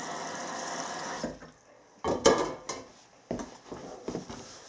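A little water splashes into a metal pan of picked blackberries, a brief running pour followed by several clattering bumps of the pan being handled.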